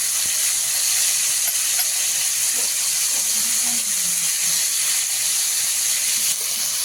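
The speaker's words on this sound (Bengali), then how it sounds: "কড়াইতে তো পেঁপের তরকারিটা এখন বসানো আছে" Steady, loud sizzling and hissing of papaya curry cooking in a hot wok, continuous throughout with faint scraping now and then.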